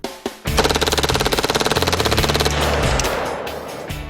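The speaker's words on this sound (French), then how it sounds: "Le pistolet mitrailleur Mac-10. Compact, simple et mortel." A Mac-10 submachine gun fires one sustained automatic burst of rapid, evenly spaced shots, loud and close, lasting about two seconds before the echo fades.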